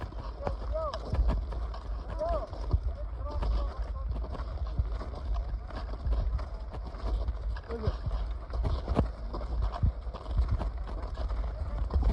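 Hooves of shepherds' resupply donkeys clop along a steep mountain trail, a continuous irregular patter of steps over wind and outdoor noise, with faint voices in the background.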